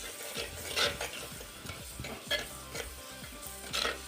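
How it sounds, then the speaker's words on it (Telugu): Ginger garlic paste being stirred into a crab curry in a clay pot, with soft sizzling under repeated scraping and knocking strokes of a spoon against the pot. "చూసారు కదా యాడ్ చేసుకుని మంచిగా మిక్స్ చేసుకుంటున్నాను"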